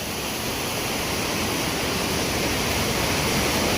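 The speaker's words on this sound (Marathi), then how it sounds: "धबधब्याचा आवाज ऐकल्या" A waterfall roars loud and close with dense, unbroken rushing water beside a stream where crabs are being caught, steady and constant throughout, with no voices.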